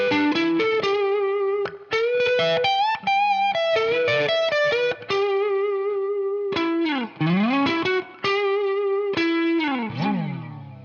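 Electric guitar plays the last four bars of a song's lead with a distorted, effects-heavy tone: bent and sliding sustained notes, quick phrases and swooping slides that sound almost like a sound effect, loud and alone.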